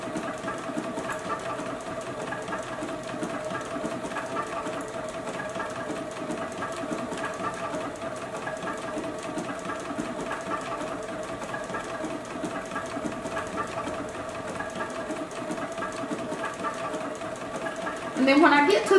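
A JUKI sewing machine stitches a fabric beverage coaster with a steady, even mechanical hum and rapid needle rhythm, close by, with a brief louder burst at the very end.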